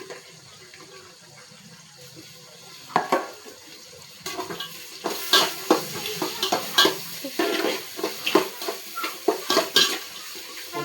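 Tomatoes and green chillies being sautéed in a pan for chicken kuzhambu, giving a soft steady sizzle with repeated scraping and stirring clatter from the utensil, in short irregular bursts after the first few seconds.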